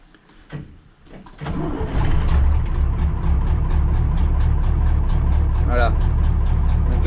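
A heavy 4x4 truck's engine cranks over, catches, and settles into a loud, steady low idle, close by, with a brief faint chirp from the vehicle midway through.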